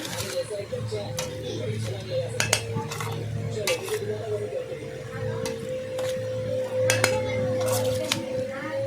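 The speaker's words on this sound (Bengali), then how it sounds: "এবার সেটাকে ভালো করে মিশিয়ে নিলাম" Food being mixed by hand in a metal bowl while making fish paturi with bottle gourd leaves: repeated clinks and scraping against the bowl, with a steady low hum underneath.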